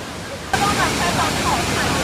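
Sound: Hukou Waterfall on the Yellow River roaring

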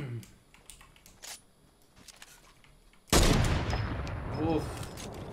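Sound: gunfire in the video game Fortnite

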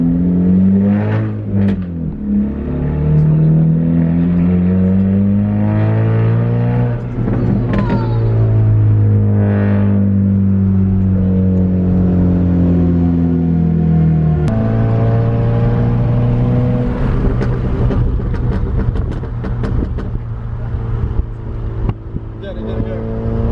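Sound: car driving away from a car meet

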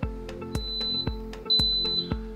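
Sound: waffle maker beeping

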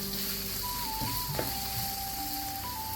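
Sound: onions sizzling while being stirred in a pan for tomato rice

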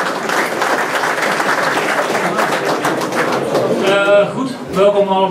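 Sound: applause at a New Year reception

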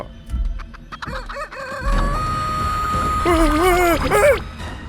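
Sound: chicken clucking and rooster crowing

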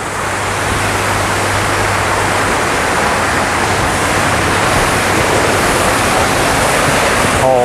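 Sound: artificial waterfall at temple

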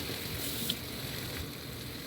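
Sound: shrimp stir-frying in a pan with curry powder

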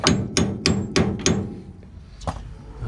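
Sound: hammering out a control arm bushing

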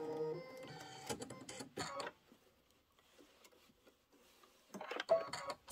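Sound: embroidery machine stitching satin trim

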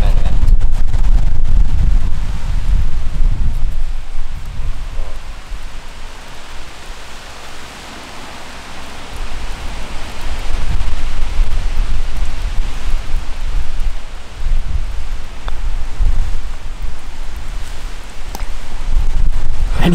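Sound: heavy pouring rain

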